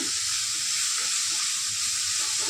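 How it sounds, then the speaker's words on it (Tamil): Rice mixed with ridge gourd and sambar powder sautéing in a pan, a steady close sizzle with a soft frying hiss throughout and a few faint stirring scrapes, no voices. "சாம்பார் தூள் தூள் வாசனை போக நல்லா வதக்கிக்கணும்"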